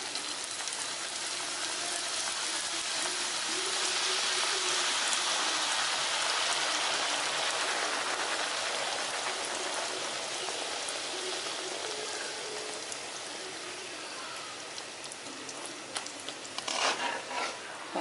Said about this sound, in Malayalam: എണ്ണ ചൂടായിട്ടുണ്ട്. നമുക്കിത് എണ്ണയിലിട്ട് വറുത്തെടുക്കാം.